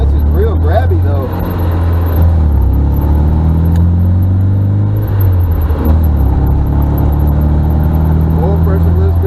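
Engine of an abandoned 1974 MGB GT with a grabby clutch, running while driving, a loud steady low rumble with shifting revs and road noise, someone talking over it.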